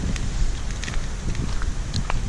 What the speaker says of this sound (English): You can still hear the wind ripping.